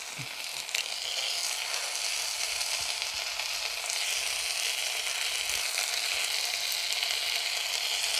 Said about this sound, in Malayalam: ഇത് നന്നായിട്ടൊന്ന് വഴറ്റിയെടുക്കാം